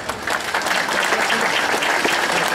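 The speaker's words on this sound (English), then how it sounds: "Let us all give a big round of applause to the teachers, and a big round of applause." Brief, even applause from a school graduation audience honoring the teachers, a dense wash of clapping lasting a couple of seconds with no voices over it.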